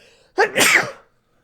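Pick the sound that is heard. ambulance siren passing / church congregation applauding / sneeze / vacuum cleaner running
sneeze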